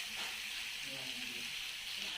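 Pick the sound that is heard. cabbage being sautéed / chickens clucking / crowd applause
cabbage being sautéed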